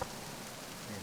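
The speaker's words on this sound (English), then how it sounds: "The rain effects are pretty cool." Rain effects from the video game Metal Gear Solid 2, a faint, steady hiss of rainfall on surfaces with no other sounds.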